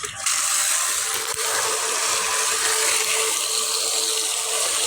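Water rushes steadily out of the opened drain valve on a 42-gallon pressure tank fed by a 1HP electric pump, a constant loud hissing gush with a brief clank near the start.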